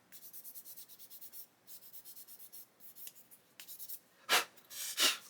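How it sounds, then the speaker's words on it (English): A sanding stick rubs away a seam line on a plastic part of a 1/32 Hachette Lancaster B.III bomber model, producing quick, rhythmic, close scratchy strokes that end in a couple of louder bursts. "I'm going to grab a stick and just sand away that seam line"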